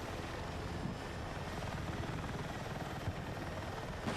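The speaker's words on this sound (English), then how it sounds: "Is that a helicopter?" A helicopter in Battlefield 6 gives a continuous low rotor rumble and engine drone, steady and fairly close, with no talk over it.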